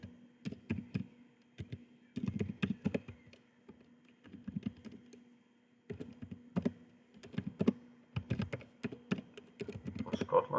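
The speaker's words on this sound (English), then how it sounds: "so then we'll type here" Fingers type on a computer keyboard in short bursts of quick close clicks separated by brief pauses, over a faint steady hum.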